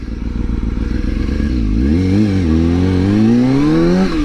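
A 2006 Kawasaki ZX-6R 636 sport bike with 6,000 miles runs close by, loud and steady, then revs up and down in rising and falling sweeps.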